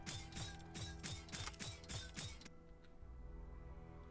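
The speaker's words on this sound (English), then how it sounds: "Let's weld you up. A little staple gun action." Tactical RPG staple-gun welding effect on a unit: a quick run of about eight mechanical ratcheting clicks in an even rhythm, then a fading metallic hum.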